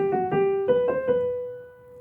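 Solo piano plays the opening right-hand melody of a soundtrack, a few clear sustained notes struck in a gentle rhythm and left ringing to fade, close and alone.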